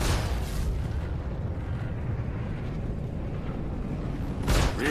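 Weapons fire pounds the rear shield of an Aegis Vanguard fighter during a Vanduul Swarm fight in Star Citizen, a dense, continuous roar of booming impacts that holds steady and swells briefly near the end, with no talking.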